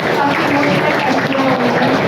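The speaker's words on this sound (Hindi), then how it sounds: "राज के लिए भी जोरदार तालियां हो जाए" Audience applause at a Diwali celebration, a steady dense wash of clapping filling the whole stretch, loud and continuous with faint voices mixed in.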